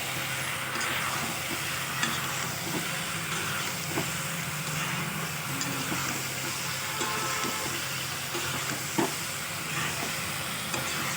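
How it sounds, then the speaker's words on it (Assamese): Soybean chunks and vegetables frying in a pan give a continuous, even sizzle and hiss, with occasional light clicks of a spatula stirring; no voices. "অকণমান বেছি টাইমত 2 মিনিট ভাজি ল'ম"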